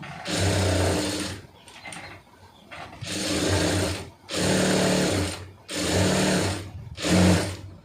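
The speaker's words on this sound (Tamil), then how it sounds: "இப்போ இதை அப்படியே நம்ம வச்சு தையல் ஓட்டிடலாம் சுற்றி ஓட்டிடலாம்" A sewing machine stitches around a sleeve lining in four or five bursts of rapid, even motor hum, separated by brief pauses, loud and close.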